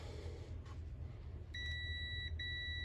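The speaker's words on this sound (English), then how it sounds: "turn to the continuity check. This one will beep." Over a low hum, a multimeter's continuity check sounds a steady electronic beep twice, with a short break between the two tones.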